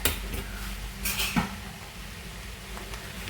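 Chopped tomatoes go into a home-kitchen cooking pan of sautéed onions, giving a few soft clattering knocks of utensil and pan against quiet room hiss, then settling.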